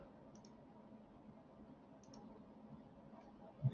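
Computer mouse clicking while working in AutoCAD 2020: two soft, quick double clicks about two seconds apart, faint and close, over a quiet background hiss.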